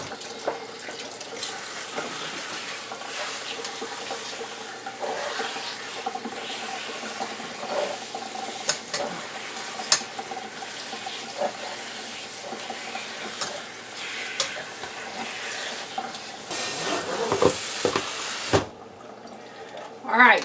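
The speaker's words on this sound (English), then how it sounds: "I'm going to rinse these with cold water" Cold tap water runs over sliced pickle cucumbers in a colander, a continuous splashing rush for a long stretch with occasional knocks and a voice speaking over it, ending in a brief quiet.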